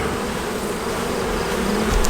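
Angry honey bees at an open hive with a second brood box produce a dense, continuous buzzing swarm, loud and close, with no talking.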